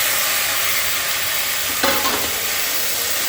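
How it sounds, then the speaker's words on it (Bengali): Spice paste frying in a wok, a steady broadband sizzle throughout with a brief louder scrape of stirring near the middle, close and fairly loud with no voices. "মশলাটা কষে নিয়েছি এবার দিয়ে দেবো কড়াতে"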